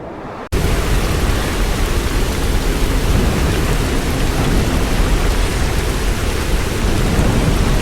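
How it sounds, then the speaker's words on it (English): Heavy rain and strong winds of Typhoon Yagi in Vietnam. A loud, dense, steady roar starts abruptly and continues unbroken to the end. "with heavy rain, strong winds, and fallen trees blocking their path"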